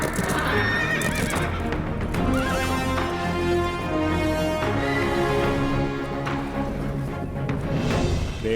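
Horses neigh and whinny over steady clip-clopping hooves in a dramatic film scene, loud and continuous with several whinnies rising above a dense, full backdrop and no talk.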